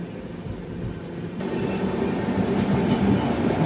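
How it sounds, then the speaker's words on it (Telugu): A Vande Bharat express train crosses close by, a building rumbling rush of rail noise with a rattle that swells louder as it passes. "వందే భారత్ అదిగో అలాగైంది వందే భారత్ క్రాసింగ్."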